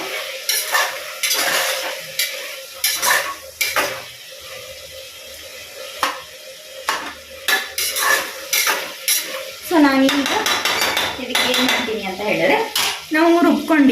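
Soya bean and vegetable pulav cooks in a pot while a metal spoon stirs and scrapes against its sides, making clinks and scrapes over a soft sizzle, up close.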